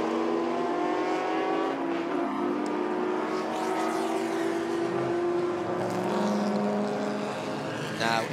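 Historic race cars at the Le Mans Classic roar past under full throttle, with loud, sustained engine notes that rise and fall as the cars pass close by and shift through the gears.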